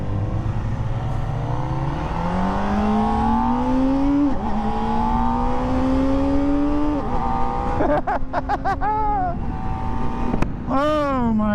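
A 2023 Kawasaki Ninja ZX-4RR four-cylinder engine with a 16,000 rpm redline, loud and close, climbs in one long, steadily rising rev, then gives a few sharp throttle blips near the end.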